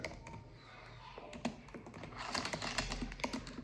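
Code being typed on a computer keyboard, a quick irregular run of soft key clicks that grows busier and slightly louder toward the end, close and quiet with no talk.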